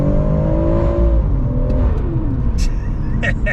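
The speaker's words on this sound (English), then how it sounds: "You might hear there's a lot of turbo noises going on" A tuned BMW M140i with a Venturi intake pulls hard, engine droning and whirring as revs climb, then eases off with faint turbo hiss and flutter chirps near the end, heard from inside the car.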